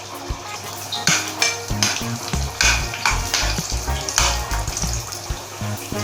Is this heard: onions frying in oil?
yes